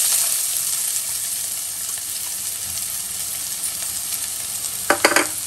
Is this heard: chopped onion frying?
yes